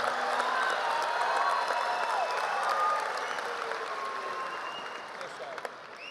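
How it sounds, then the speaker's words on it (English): Graduation crowd at a Clarkston High School ceremony for the class of 2025 bursts into sustained, dense applause and cheering that holds steady, then gradually thins over several seconds. "Applause! Applause! Applause!"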